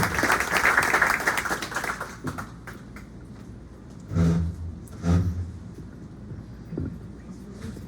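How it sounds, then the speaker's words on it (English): A bookstore poetry-reading audience claps for poet Michael Maul, with a burst of applause over the first two seconds that fades into scattered sounds and a few low thumps. "Let's keep the applause going."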